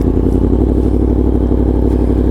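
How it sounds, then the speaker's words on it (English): A 2022 Yamaha MT-10 SP motorcycle engine running rich holds a steady, loud low rumble with a rapid chugging pulse throughout, a rough exhaust note with no distinct separate pops standing out. "it sounds really good, but it is popping a lot"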